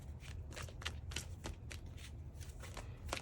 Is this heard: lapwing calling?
no